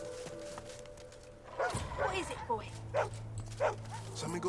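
Hound in Divinity: Original Sin 2 barks and whimpers in a run of short yips and whines, fairly close, over a steady game background hum with voices talking.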